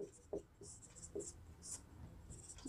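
Marker or chalk strokes on a classroom board, a series of short scratchy taps and squeaks spaced irregularly, close and quiet, with no voices.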